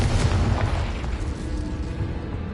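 A Confringo fire spell in Hogwarts Legacy bursts with a loud, booming explosion right at the start, then rumbles and fades over a couple of seconds.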